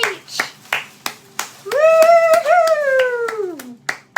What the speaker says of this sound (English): Round of applause to Kerry Beach.